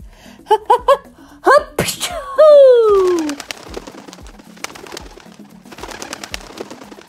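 A voice makes a few quick rising calls, then imitates a giraffe's loud sneeze with a drawn-out falling squeal, followed by quieter rustling and clicks.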